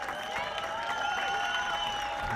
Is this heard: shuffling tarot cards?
no